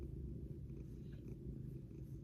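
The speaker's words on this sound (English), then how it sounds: "I don't know if you guys can hear it purring. It's pretty loud." A pet cat purrs loudly and steadily up close, a continuous low rumbling throb that runs unbroken with no voices over it.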